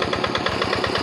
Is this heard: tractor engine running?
yes